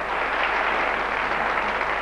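A TV studio audience applauds a guest singer with even, sustained clapping that fills the room, no voices over it.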